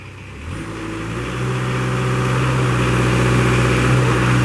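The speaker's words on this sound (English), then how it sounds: "Now, we got the Kubota up and going." A Kubota diesel engine on a 2014 Moffett M55 truck-mounted forklift starting up and settling into a steady, loud mid-pitched running drone close by.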